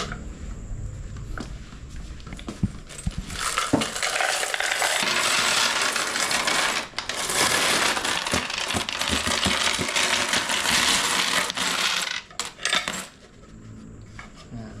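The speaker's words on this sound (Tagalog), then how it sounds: "Puro barya tayo ngayon. So, bibilang muna kami" A pile of coins being handled and counted at a small shop, with a dense, continuous metallic jingle and clatter up close and louder bursts of sliding coins.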